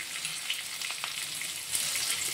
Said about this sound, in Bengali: আলুটা ভেজে নেব তেলের সাথে কিছুক্ষণ